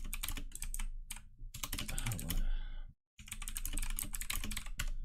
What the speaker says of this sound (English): I just did it because my keyboard's so fucking loud.